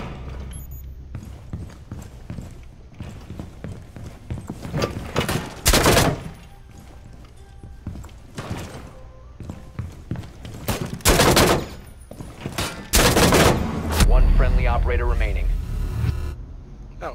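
Gunfire in Rainbow Six Siege on the Skyscraper map in Team Deathmatch Secure during Operation Para Bellum: loud, sharp volleys burst out several times over a steady background, with voices talking in between.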